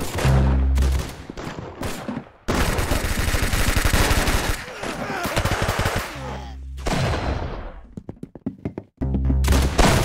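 Rapid bursts of automatic gunfire and heavy shots from the first-person shooter Arsenal, loud and near, with short pauses between volleys and a few isolated shots near the end.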